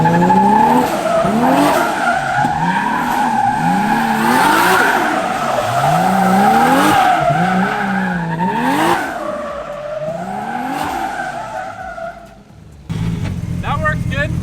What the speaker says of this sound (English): First up, let's see how it does in rear-wheel drive.